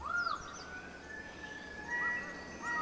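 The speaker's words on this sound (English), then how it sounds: "a rainbow lorikeet," A rainbow lorikeet in New Guinea forest calling with a few harsh, screechy squawks, fairly close and clear over a soft bed of ambient forest birdsong.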